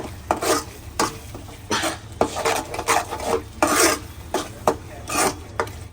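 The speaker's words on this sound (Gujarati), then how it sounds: "પાઉંભાજી મસાલા ને વળી પાછું આપણે કરી નાખીએ મિક્સ" A spoon stirs pav bhaji masala into onions, tomatoes and vegetables in a pan, making repeated rhythmic scraping strokes against the metal, close and fairly loud, with a faint sizzle underneath.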